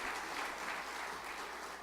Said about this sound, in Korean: 우리 박수 한번 해드려요